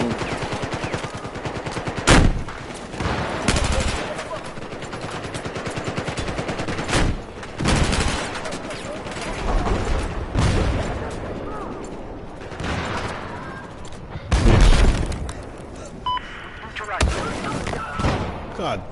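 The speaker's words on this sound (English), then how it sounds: "This freaking mortar." Battlefield 4 battle with repeated gunfire and heavy explosive thumps from mortar fire, loud broadband bursts at irregular intervals over constant combat noise, with someone talking at times.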